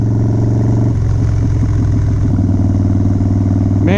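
Loud, close engine roar from a Harley Dyna motorcycle with a Screaming Eagle 110ci stage 5 high-compression engine, a deep, continuous rumble that throbs and shifts in pitch as the throttle changes.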